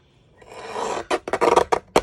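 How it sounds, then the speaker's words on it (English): A mini guillotine cutter trimming a thin sliver off cardstock for a paper box, a short rasping slide followed by several quick crisp cutting strokes, close and clear. "I am going to snip on 3 sides with my mini guillotine cutter."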